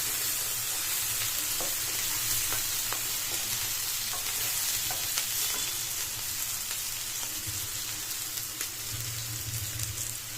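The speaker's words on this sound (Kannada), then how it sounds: "ಲೋ ಫ್ಲೇಮಲ್ಲಿ ಇಟ್ಕೊಂಡು ಫ್ರೈ ಮಾಡ್ಕೊಳ್ಳಿ" Capsicum and egg fry over a low flame with a steady, dense sizzle and crackle. It stays close and continuous throughout, with occasional soft stirring and no voices.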